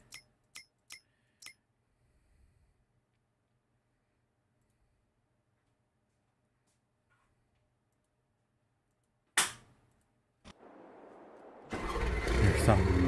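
In Farming Simulator 22, a truck engine is started after a few sharp clicks and a long quiet stretch, with a cranking burst followed by the motor catching and settling into a loud, steady rumble.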